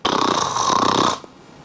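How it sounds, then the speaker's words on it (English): A loud, close snore holds steady for about a second with a rough, buzzing rasp, then breaks off into quiet room tone. "That one is a snore."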